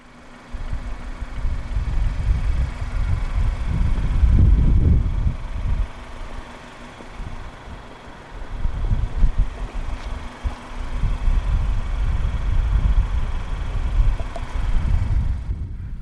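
A 2015 Mazda 3 with a 2.0 SkyActiv-G engine idles steadily, a low, even rumble with a couple of slight swells, heard close by without talk.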